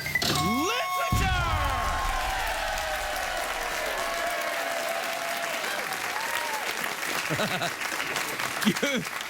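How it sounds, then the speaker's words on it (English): Studio audience on a late-night talk show breaks into sustained applause with some cheering, loud and steady throughout, after a brief electronic sound cue at the start. "You applaud for literature?"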